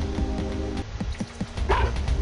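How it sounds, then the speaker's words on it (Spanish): A small dog barks in the video game Mother 3, a few quick yips and bow-wows close up over looping game music, with no talking. "listo, el perrito ladró."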